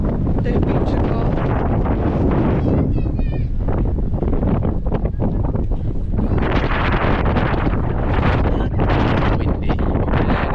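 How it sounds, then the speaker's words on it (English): Heavy gusting wind roars continuously against the microphone at a beach in North Wales, loud and close, with rumbling buffeting that swells and eases over time. "Windy, very windy."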